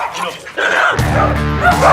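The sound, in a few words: dogs barking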